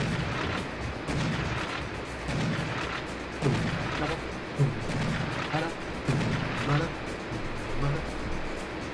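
Shotgun blasts in the video game Serious Sam, several heavy booming shots fired at irregular intervals over a steady bed of game background noise.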